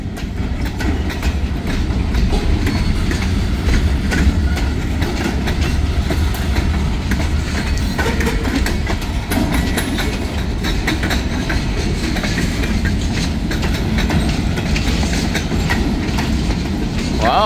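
A long freight train with empty gondola cars rolls steadily along the rails, wheels clicking and clacking over joints amid a heavy rumble, close by and continuous with no talk.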